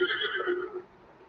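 A horse in The Legend of Zelda: Breath of the Wild whinnies loudly and close by, a single drawn-out neigh that trails off into quiet.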